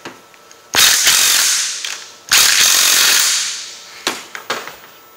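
A ratchet with a 5/8 socket tightens the bar nuts on a chainsaw, giving three bursts of rapid clicking, two long and loud with fading tails, then a short broken run of clicks at the end, with no talking.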